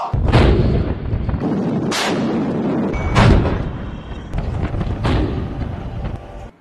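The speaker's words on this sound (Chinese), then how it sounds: "对岸射击。 静止射击， 开始射击。" Naval guns aboard new warships firing at a shore target during a Yellow Sea exercise: four heavy booming shots spaced about a second apart, loud and close, over a constant roar of wind and engine noise.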